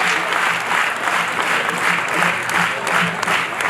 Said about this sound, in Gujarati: તાળીઓ હવામાં ઉછળતી હોય તો હજી મજા આવશે